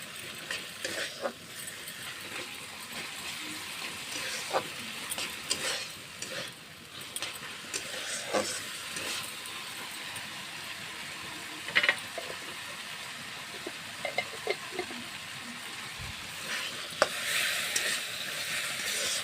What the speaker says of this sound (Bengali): ভালোভাবে আমার কষানো হয়ে গেছে মশলা আর মুগ ডালটা